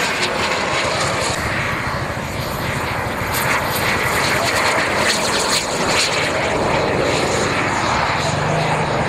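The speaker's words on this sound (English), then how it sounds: "it was the aircraft coming right now, the F-4 Phantom" An F-4 Phantom jet flying over at a Kentucky airshow, a loud, sustained broadband engine roar that holds steady throughout without pause.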